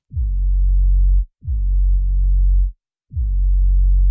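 Low end of a distorted 808 bass, filtered to everything below 100 Hz, plays as three long sustained deep booms separated by short gaps, heavy and dark with no upper content.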